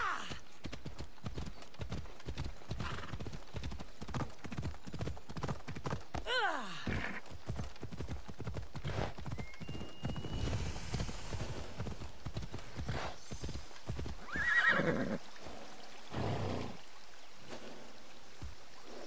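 Horse hooves clip-clop steadily in Assassin's Creed Odyssey, a continuous trotting rhythm that briefly breaks off, then resumes with a short neigh rising midway, all fairly quiet.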